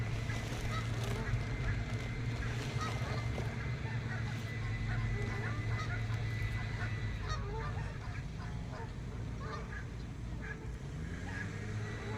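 A flock of about twenty Canada geese on a nearby dock honks in a noisy, overlapping chorus, with calls coming again and again at a moderate distance over a steady outdoor background.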